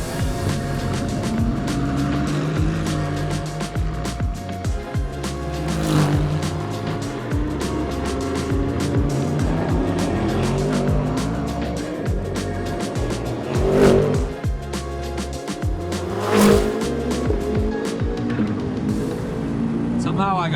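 Race cars in a street race session at Long Beach, engines roaring past with tire squeal through a city corner; loud, continuous, with several passes swelling and fading.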